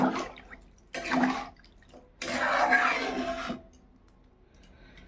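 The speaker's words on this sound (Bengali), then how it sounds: "এবার আমি জল দিয়ে দেবো। অনেকটা জল দিয়েছি, এই যে এতটা জল দিলাম।" Water poured into a cooking pot for chicken stew in a home kitchen, three separate close splashing pours with quiet pauses between, no talk.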